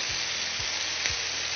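Ginger paste and chili paste frying in oil with a little sugar, a loud constant close sizzle and hiss filling the whole moment, with a few soft low thumps of a spoon underneath and no voices.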